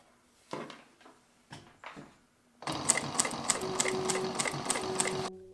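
A Juki DNU-1541 industrial walking-foot sewing machine stitches in a fast, even mechanical rattle for a few seconds after some quiet handling clicks.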